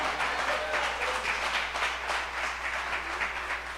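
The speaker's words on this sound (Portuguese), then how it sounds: "Aplauda o Senhor com o seu melhor." A church congregation claps together during a sermon, a steady, moderately loud patter of many hands with faint rhythmic pulses throughout, no voice heard over it.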